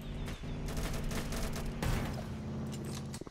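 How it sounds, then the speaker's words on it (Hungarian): Dense gunfire from the Roblox game Mad City during a robbery shootout: a loud, sustained fusillade of rapid shots and booms rolling on without a break, and no speech. "Itt megy a lövöldözés, srácok,"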